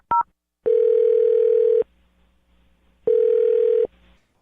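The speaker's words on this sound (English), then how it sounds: "I'm going to dial her phone number right now" A telephone ringback tone sounds while a phone number is dialed for a radio call, with a brief beep followed by two long steady tone bursts separated by a pause, loud and alone.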